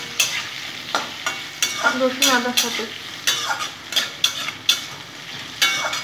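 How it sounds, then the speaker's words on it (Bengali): Washed chopped potatoes frying in a pan, with steady sizzle and repeated scrapes and clinks of a spoon stirring them, while someone talks briefly nearby. "খুব সুন্দর করে ভেজে নেব, 5-7 মিনিট ধরে সুন্দর করে আলুটা ভেজে নেব"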